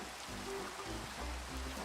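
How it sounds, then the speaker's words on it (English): Steady rain pattering down in a survival video game, a soft continuous hiss with low rumbling underneath and no voices. "It is raining."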